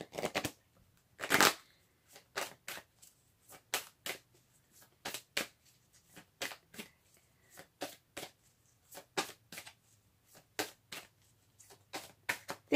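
Romance Angels oracle cards being shuffled by hand, a run of short papery riffles and slaps in an uneven rhythm, close and fairly quiet with no talking.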